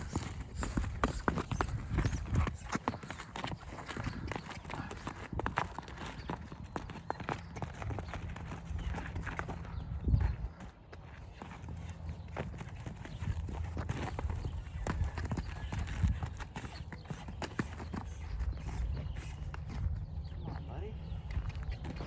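Hooves thud and clop continuously on the ground as a colt moves around during training, with scattered rustling and movement noise throughout.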